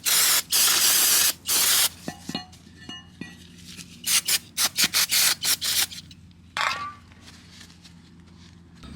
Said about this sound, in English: I'm gonna spray brake cleaner, clean it